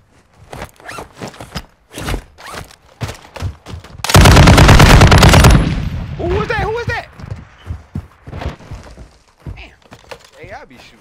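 Gunfire in Call of Duty DMZ, one loud sustained automatic burst lasting about a second and a half, surrounded by scattered single shots and impacts, with people talking throughout.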